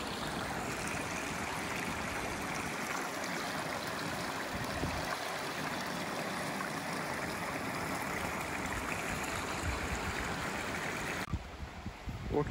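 A river in the Mt. Aso caldera valley flows in a steady, close, noisy rush for the whole stretch and changes slightly near the end, with no clear voices over it.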